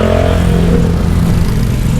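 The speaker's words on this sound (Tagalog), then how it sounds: "Ay, daming motor." Many motorcycles moving through busy street traffic, with a steady, loud mix of engine drone and revving close by, continuous throughout without any talking.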